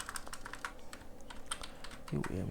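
Fingers typing on a computer keyboard while entering HTML code, giving a rapid, uneven run of close, crisp key clicks over a faint steady background hum.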